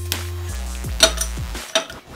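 Chocolate being melted into cream in a small saucepan, heard as a few sharp metallic clinks and scrapes of a utensil against the pan over a soft low hum, close and brief.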